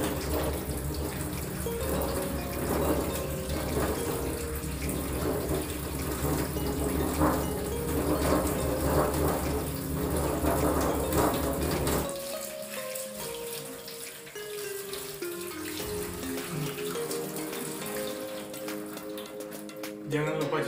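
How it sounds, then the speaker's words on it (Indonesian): Tap water runs steadily for about twenty seconds while hands are washed beneath it, a continuous splashing stream over a sink; background music plays throughout, and the sound thins and softens partway through. "Jangan lupa cuci tangan juga ya."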